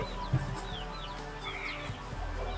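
Several short, chirpy clucks from a Minecraft chicken, scattered over a steady game background hum with faint low thumps.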